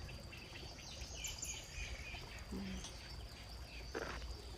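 Many birds calling in an outdoor field of string beans near a temple, with faint chirps and tweets mixed with insect and cricket buzz over steady background noise, no talk.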